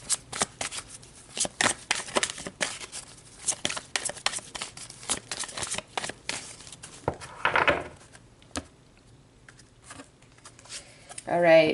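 Tarot cards being shuffled by hand, a rapid run of close, crisp riffles and flicking snaps that pauses briefly before a final burst, with a voice heard faintly at times.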